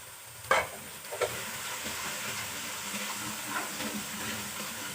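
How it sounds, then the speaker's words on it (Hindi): Spices such as cumin, garam masala, red chili, coriander, fenugreek and turmeric roasting in oil in a pan for aloo palak, making a steady soft sizzle with a couple of sharp utensil knocks near the start. "थोड़ा सा भून देते हैं, मसालों का कच्चापन दूर हो जाए।"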